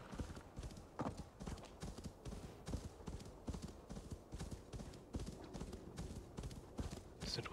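Steady clip-clop of horse hooves at a riding pace in the video game Assassin's Creed Valhalla, quiet and rhythmic, with ambient game sounds and faint talk.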